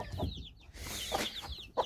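Chickens, a hen named Esmeralda with her nine chicks, cluck nearby in short broken bursts, with soft murmuring clucks and a sharper cluck at the end.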